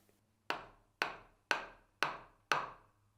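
A wooden mallet strikes the handle of a wood carving tool five times at an even half-second pace, each blow a sharp, close knock with a short decaying ring, over a low steady hum.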